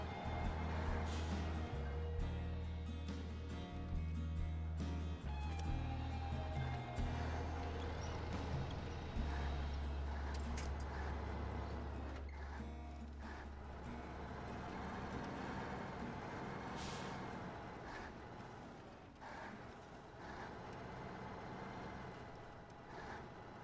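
A heavy truck in the SnowRunner game labours through deep mud with a loud, steady engine drone that rises and falls under load, with hissing and rumbling bursts as it strains, and no voices.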